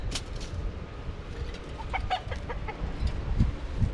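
Chickens clucking steadily on an off-grid homestead, a cluster of short close calls with occasional sharper squawks over a rustling outdoor background.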